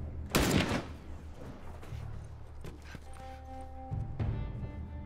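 Gunfire in the video game The Last of Us Remastered: one loud close shot near the start, then softer game sounds and tonal hums over a low background, no speech.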